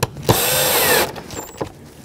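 A power drill with a T25 Torx bit tightens an airbox screw on a 2010-16 Buick LaCrosse, one loud whirring run of about a second between short clicks, close up.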